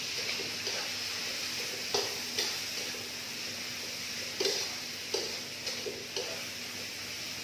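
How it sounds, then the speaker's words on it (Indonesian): Meat stir-fried in a pan for a simple green bean and minced beef dish, a steady close sizzle with periodic light taps and scrapes of a utensil against the pan. "Tumis dagingnya."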